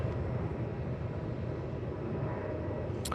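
An Airbus A330 from Colombo arrives at Melbourne Airport, a steady, broad, low jet roar holding at a constant level for the whole stretch, heard from a distance with no talking.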